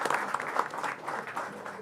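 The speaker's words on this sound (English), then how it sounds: "I think we should have a huge round of applause for Rishi here." An audience at a chess world championship broadcast applauds in a steady patter of many hands clapping, moderately loud and continuous with no voices.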